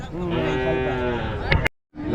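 Cattle lowing at a busy livestock market in Tamil Nadu, a long drawn-out moo close by that breaks off abruptly, then resumes after a short silence, with crowd noise underneath.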